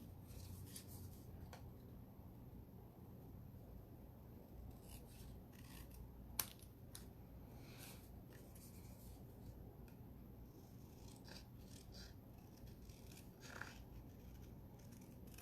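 Scissors snip through a paper envelope with quiet, repeated close-up cuts and rustling, one sharper snap standing out, no talk.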